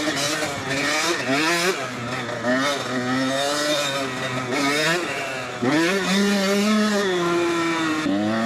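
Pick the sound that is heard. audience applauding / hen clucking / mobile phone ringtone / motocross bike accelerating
motocross bike accelerating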